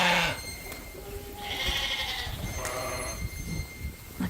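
Suffolk sheep bleat repeatedly in a barn with fresh straw, several close calls overlapping at an uneven rhythm, loud and clear with no talking.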